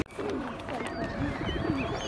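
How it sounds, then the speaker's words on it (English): Pigeons cooing near water on a London outing, a soft low repeated burble running under continuous outdoor chatter and crowd noise. "Pigeons don't tend to go in the water. Wow, look at those birds."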